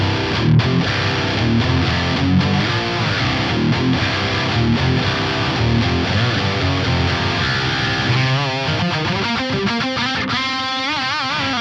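Heavily distorted electric guitar through an Axe-FX 3 5153 Stealth Red amp model with a cab IR and a touch of plate reverb, chugging chords then ringing sustained notes, loud and continuous.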